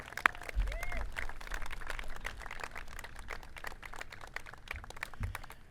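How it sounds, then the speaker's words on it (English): Faint, scattered applause from a small outdoor crowd at a pavilion unveiling in Balboa Park, San Diego, thin and distant with a few stray bumps and voices. "let's give a round of applause to the City of San Diego staff who got this done"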